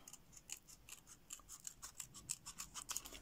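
Scissors snip along the paper edges of a chocolate-bar wrapper card, a quick run of crisp, close, fairly quiet cuts in an irregular rhythm with no talking.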